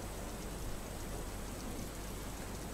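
Steady rain pours down during a thunderstorm in Himmatnagar, Sabarkantha, giving an even, dense hiss of drops on surfaces that stays constant throughout and is moderately faint, with no voices.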